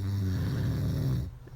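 A man snores loudly and close by, a single long rumbling snore lasting over a second before it cuts off.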